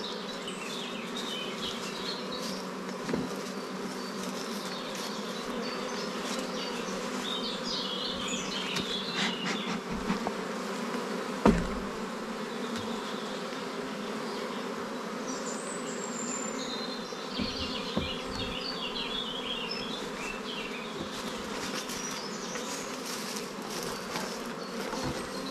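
A dense, steady hum of honeybees buzzing around an opened beehive, close and continuous, with a few individual bees droning past, some faint chirps and a brief knock partway through.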